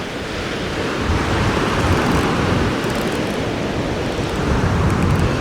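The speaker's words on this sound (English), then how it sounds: "Some big gusts of wind coming every now and again." Strong gusts of wind buffet an open beach on the Moray coast at Cullen, Scotland, a loud continuous roar of rushing air and surf that holds steady throughout with no voices.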